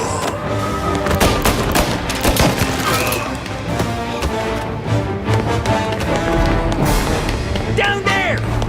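Crime-drama video game gunfire in Mafia Definitive Edition: dense rattling bursts of shots run throughout amid in-game shouting and action noise, loud and close.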